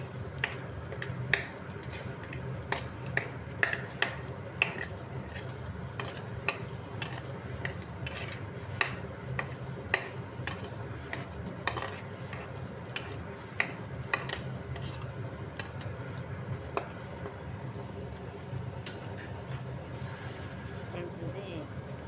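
Burji eggs being stirred in a pan with oil, a spatula scraping and tapping steadily against the metal over a soft sizzle, with a voice talking quietly in the background throughout.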